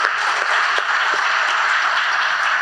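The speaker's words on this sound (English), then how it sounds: "so a round of applause for all the sponsors" Audience applause for conference sponsors at a closing session, a steady dense wash of clapping that holds evenly for the whole stretch with no voices over it.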